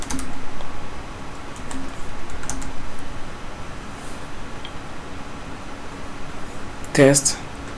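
Typing on a computer keyboard to enter a domain name, a quick run of soft, close key taps over a quiet room hum, with a louder cluster of clicks near the end.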